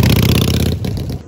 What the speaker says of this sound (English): testing out the bike, the new bike